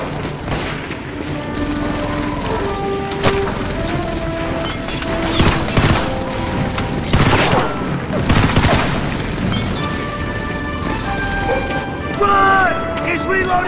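MG-42 machine gun fire in the game Medal of Honor Vanguard: bursts of rapid shots and booms in a busy battle mix, with voices shouting over the gunfire.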